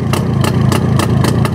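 A small model engine called Shmel runs steadily, a close buzzing drone with a regular pulsing beat that stays loud and even throughout.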